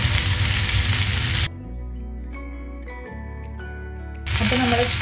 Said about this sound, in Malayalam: ഇതേപോലെ ഒന്ന് തിരിച്ചും മറ്റും ഇട്ടിട്ട് ചിക്കൻ ഫ്രൈ ചെയ്തെടുക്കാം